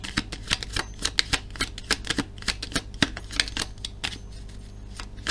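A deck of Lenormand cards shuffled by hand, close up, making a run of quick, crisp flicking snaps in an uneven rhythm, with no talking.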